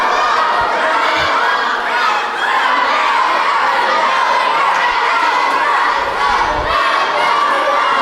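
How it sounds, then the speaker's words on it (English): A large wrestling-show crowd chants and roars continuously, a dense, loud wall of voices that holds steady throughout with no individual speech standing out. "Crowd chanting."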